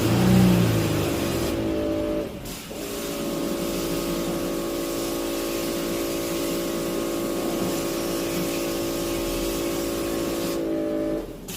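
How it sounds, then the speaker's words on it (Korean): Renault Samsung SM7 engine revving up under acceleration from idle after a part swap, a loud steady high-rev drone holding for about nine seconds with a brief dip near the start and dropping off at the end. "가속"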